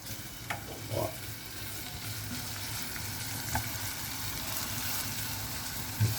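Chopped onion and garlic sautéing in a pan, a steady soft sizzle with a couple of light utensil taps early on, close and even throughout.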